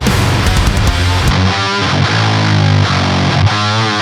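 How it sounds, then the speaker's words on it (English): Loud, thick electric guitar chords through a distortion pedal ring out with a buzzy, saturated tone, sustained and layered without any voices. "whatever the distortion was doing to the mid-range and the low end, it just sounded really thick"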